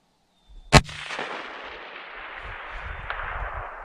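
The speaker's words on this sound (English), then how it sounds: "watch what happens after he shoots it" A 6.5 PRC sniper rifle fires a single sharp, loud shot followed by a long rolling echo that fades slowly across open range.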